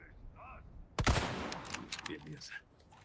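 A sudden loud explosion in Resident Evil 4 Remake followed by a crackling burst of rapid, gunfire-like pops and bangs that tail off over a few seconds.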